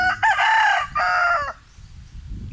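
A rooster crows loudly and close by, two long harmonic crows back to back, followed by low rustling and farmyard noise.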